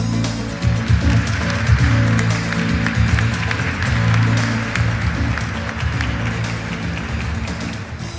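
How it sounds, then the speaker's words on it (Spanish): Audience applause welcoming a speaker at a conference, a continuous clapping wash sitting over a loud low hum or rumble in the hall, steady for the whole stretch. "Recibamos con un fuerte aplauso a Soledad Barruti."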